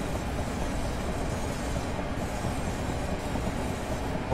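Class 465 electric multiple unit running on the Chatham Main Line in Train Simulator, a steady, loud rumble of wheels and motors rolling on without a break, no voices.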